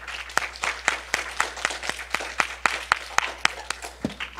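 Church congregation clapping steadily during a Sunday worship service, a dense run of sharp hand claps sustained at an even rhythm throughout, with no voices over it.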